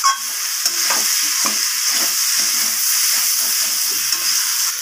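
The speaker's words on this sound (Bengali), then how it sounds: "চিনিটা দেওয়ার পর আমি আবারও কষিয়ে নেব এইভাবে।" Cauliflower and egg curry with sugar being stir-fried in a pan, a steady close sizzle and hiss with soft scraping stirs and a few light clinks, no voices.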